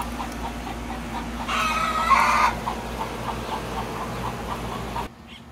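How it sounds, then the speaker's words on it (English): Chickens clucking in a garden yard amid steady background noise, with a louder burst of fowl calls in the middle before the sound cuts off abruptly. "chickens are going off without eggs."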